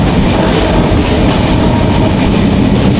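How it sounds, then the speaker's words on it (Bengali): The Benapole Express passenger train runs on rails in Bangladesh, a loud continuous rumble of wheels and carriage noise heard from on board, with no talk. "চলেন আমরা বেনাপুল এক্সপ্রেসে ভ্রমণ করি"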